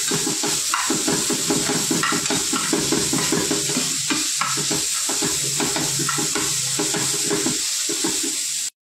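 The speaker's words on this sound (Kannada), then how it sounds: "ಇದನ್ನು ಚಲೋ ಮಿಕ್ಸ್ ಮಾಡ್ಕೋಬೇಕು." Roti seasoning (oggarane) being stirred and fried in a pan gives a steady, close sizzle with continuous rhythmic scraping strokes throughout, and no talking.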